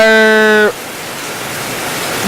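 Heavy rain pours down as a steady, dense hiss at a home where workers were doing fence work, after a loud harmonic tone cuts off at the start.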